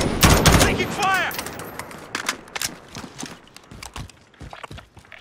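Gunfire in the Warzone video game: a loud close burst of rapid shots at the start, followed by scattered fainter shots and footstep-like clatter, with a player shouting over it.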